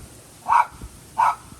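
A dog in an orchid garden barks twice at squirrels, two short, sharp woofs spaced under a second apart, moderately close against a quiet outdoor background.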